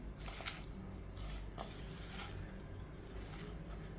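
Shrimp and vegetable salad with sorrel sauce being stirred by hand, a continuous close, wet squishing and sloshing with soft repeated scraping strokes.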